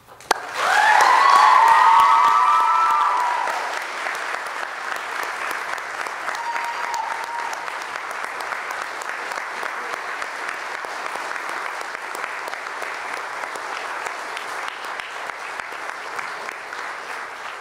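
Sustained audience applause at a university literary prize ceremony, a loud burst that settles into steady clapping throughout, with brief cheering or voices early on.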